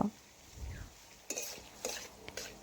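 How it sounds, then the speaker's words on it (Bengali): Paneer being stirred and fried in a pan, heard as faint, soft scrapes of a utensil against the pan in a few short bursts, quiet and close. "এভাবে নাড়াচাড়া করে ভেজে নিচ্ছি পনির"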